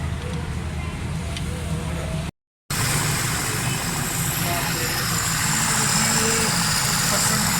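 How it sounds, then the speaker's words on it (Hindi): An idling car engine runs on choke at a raised, steady speed, a continuous close hum broken once by a brief cut, with someone talking over it. "चौक है गाड़ी, कम से कम चौक 2000 RPM होनी चाहिए"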